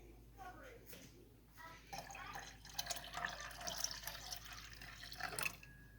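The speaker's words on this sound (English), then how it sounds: "We're gonna add this water." Water poured into a mixture being brought up to 100 degrees, a soft broadband splashing and trickling with a few drips, under a voice talking.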